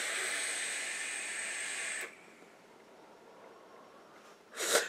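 Vape vapour blown out in a long, steady hiss of breath for about two seconds, followed by quiet and a brief second puff near the end.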